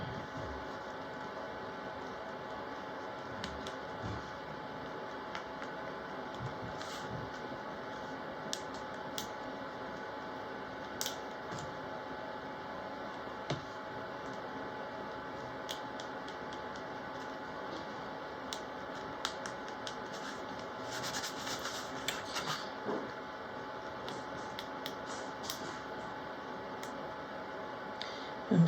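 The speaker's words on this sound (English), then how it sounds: "I'm sorry if you can hear my fan blowing in the background" Steady, faint whir of an electric fan blowing in a sewing room, a continuous hum with a few light ticks and clicks over it and no talking.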